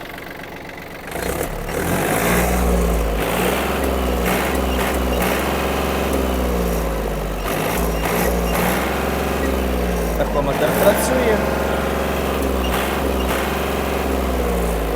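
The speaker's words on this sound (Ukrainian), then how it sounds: "Ось така робота двигуна" Yanmar F-200 mini tractor diesel engine running at raised throttle, a steady loud low drone with rising and falling revs, someone talking over it.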